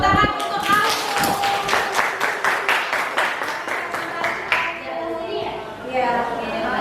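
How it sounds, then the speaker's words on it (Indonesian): A school class applauds a pupil after a presentation, with steady rhythmic clapping from many hands for several seconds before it trails off and children's voices take over. "Tepuk tangan untuk Alfu."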